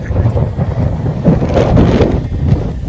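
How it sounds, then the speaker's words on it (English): Gusty wind on a mountain peak rumbles and buffets steadily, a low roaring rush with no voices, constant and fairly loud. "it's windy up here."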